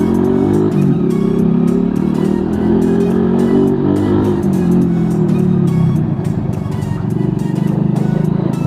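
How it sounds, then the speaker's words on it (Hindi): A motorbike exhaust roars loud and close as the rider accelerates, a sustained throaty drone whose pitch climbs and drops as gears are shifted. "फिर जो गाड़ी की आवाज़ आती है ना एग्जॉस्ट की, कोई फेल नहीं कर सकता भाई उस आवाज़ को"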